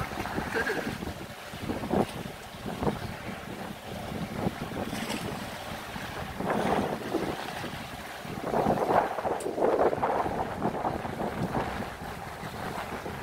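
Gusty wind buffets the microphone by the sea, with waves and a moving boat beneath, while voices chat intermittently.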